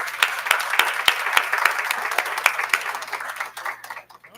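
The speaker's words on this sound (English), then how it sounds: "Let's give her another round of applause." Applause at a university board of supervisors meeting in honor of Dr. Adams: steady clapping from a seated audience with sharp individual claps standing out, fading away in the final second.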